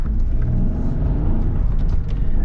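A Peugeot 3008 with the 1.2 PureTech 130 hp engine accelerates, giving a loud, close, steady low engine rumble and whir from inside the car, with no talk.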